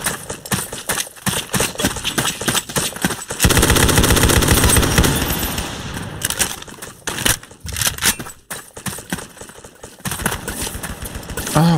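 Automatic gunfire in the Roblox game Ace of Spades, a long, loud stretch of rapid machine-gun fire with scattered single shots and battle noise around it.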